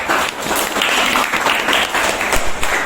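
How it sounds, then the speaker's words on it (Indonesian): A classroom group applauds together for group 4, a dense, loud patter of many hands that holds steady for a few seconds. "Oke, aplaus untuk kelompok 4"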